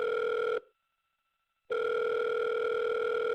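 Phone ringing tone heard down the line in the horror visual novel The Letter: a steady electronic ring, a second of silence, then the ring again, loud and close with no talking.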